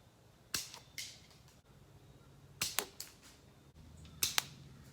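Slingshot shots fired outdoors during accuracy practice: several sharp, snappy cracks spread out over a few seconds, some single and some in quick pairs, fairly close and loud against a quiet background hum.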